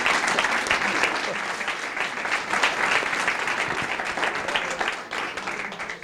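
A church congregation gives God a round of applause, loud, dense clapping that holds steady for several seconds and then begins to ease off.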